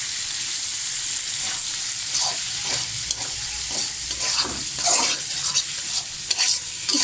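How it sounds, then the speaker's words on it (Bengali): Boiled beef tripe stirred and fried in a pan after spices are cooked down, a continuous hiss of sizzling oil with repeated scraping strokes of the spoon, close and steady with no talking. "এটা এবার বেশ কিছুক্ষণ নেড়ে নিতে হবে।"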